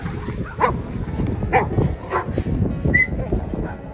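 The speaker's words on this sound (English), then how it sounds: "Check out how this wolf was whimpering for the Tibetan Mastiff to let go of its lunch." A wolf whimpers and yelps while fighting a Tibetan Mastiff, with short whiny cries and growly scuffling close up, breaking out in bursts over a continuous rough struggle.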